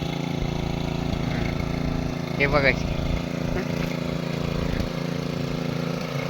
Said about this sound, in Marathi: चला आता ट्रॅक्टर चालू झालेलो हा.